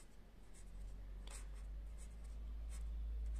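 Pen or marker scratches out a math equation on a writing surface, a few brief faint strokes over a steady low hum, with no talking.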